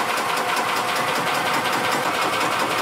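A 2008 Yamaha Drive gas golf cart engine cranking without starting, a continuous loud whirring, chattering drone held steady and close throughout.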